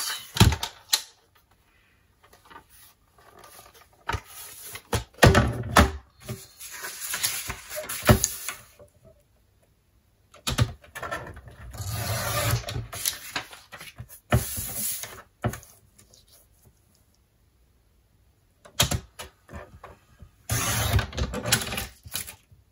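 Paper being cut to an 18 cm square for a spring-themed scrapbook page, heard as several separate bursts of scraping and cutting with quiet pauses between them.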